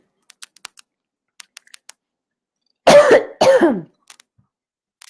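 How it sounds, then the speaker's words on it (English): Two harsh, close coughs in quick succession, preceded and followed by light, scattered keyboard tapping in an otherwise quiet room. "Excuse me, the show must go on amidst my cough."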